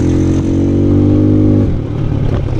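A Vento Storm 250 motorcycle engine revs up loud and close, holding a rough, steady roar with a rising pitch, then drops back to a lumpy, clattering idle.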